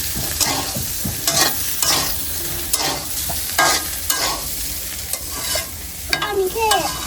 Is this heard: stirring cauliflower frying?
yes